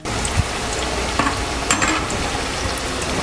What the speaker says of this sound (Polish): Kotlety smażę z każdej strony przez kilka minut, około 3-4 minut, aż one ładnie się zrumienią